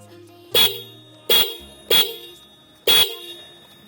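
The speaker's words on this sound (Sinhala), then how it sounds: "දැන් බලමු හෝන් එක ගහලා කොහොමද හෝන් එක වැඩ කරන්නේ කියලා." A Honda Dio scooter fitted with a double horn sounds four short, loud honks at close range, evenly spaced with brief gaps between blasts.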